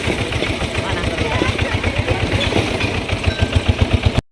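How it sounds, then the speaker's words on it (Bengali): A motor van fitted with a machine engine runs loudly nearby, its rough idle chugging in a fast, regular pulse throughout. "এটার মধ্যে মিশিংয়ের ইঞ্জিন লাগানো। এত শব্দ এই গাড়ির"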